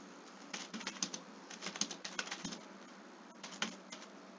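Fingers tap on a computer keyboard, a faint, quick run of light clicks in irregular bursts with a short pause near the end.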